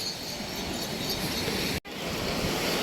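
Steady broadband wash of surf rolling onto the beach at Digha, continuous and fairly loud, with a brief dropout near the end before the roar resumes.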